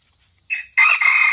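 A young Sumatran red junglefowl rooster crows once, loud and close, a short strained call rising after a brief opening note, in an outdoor trapping setting with no talking.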